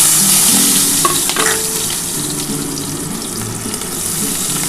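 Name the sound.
dried red chilli and black cumin frying in oil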